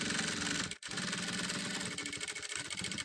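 A sewing machine stitches fabric close by, its dense, rapid motor whir running steadily and breaking off for a split second before carrying on.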